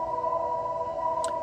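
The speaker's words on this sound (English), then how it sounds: "it is echoing inside of here, so very loud backup noise" A 2023–2024 Honda CR-V Hybrid's steady electronic reversing beep rings continuously and loudly, echoing inside a garage, with a brief higher chirp near the end.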